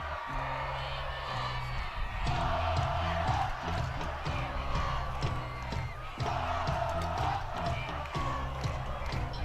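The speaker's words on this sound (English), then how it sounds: "And the Centennial crowd coming to life, as is that Rebellion on the other side over there." Home crowd at a high school football game roars and cheers in loud sustained waves, with shouts and whoops rising and falling across a packed stadium, building twice into fuller bursts.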